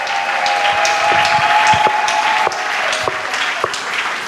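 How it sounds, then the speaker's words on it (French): A church congregation applauds the Lord during a Sunday worship service, a steady wash of clapping with scattered sharper claps, held at an even level throughout. "quelqu'un acclame le Seigneur"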